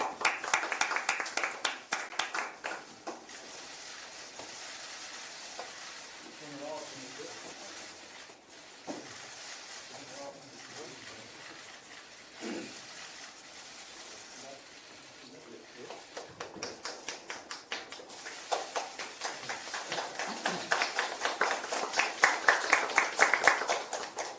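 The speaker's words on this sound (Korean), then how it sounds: "큰 박수 부탁드립니다" Clapping from a crowd at a political party's recruitment event comes and goes, swelling louder toward the end, with a voice speaking over parts of it.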